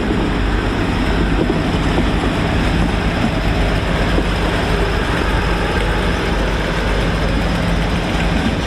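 Locomotive 56078, a Class 56 diesel, passing on the West Coast Main Line at Stafford, a loud steady engine drone and rumble of wagons rolling by close, without a break.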